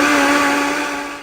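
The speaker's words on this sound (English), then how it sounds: "transfer that into a blender and blend together with" An electric blender whirs steadily, blending chopped onions, tomatoes and spices for a Cameroonian black fish soup, a loud continuous motor hum that tapers slightly toward the end.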